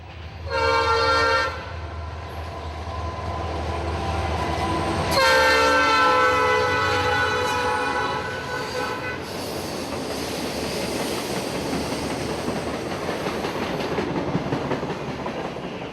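A freight train on the Norfolk Southern main line rolls through Austell, Georgia, loud and close: a horn blast opens, then a second longer horn sounds over the steady rumble and clatter of cars passing.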